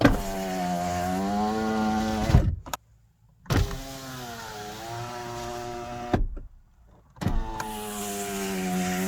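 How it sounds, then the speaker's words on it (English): A car's driver's side electric window motor whirring as the glass runs down and back up, loud and close, repeating in two full cycles with brief silent pauses between them. "Simply open and close the driver's side window."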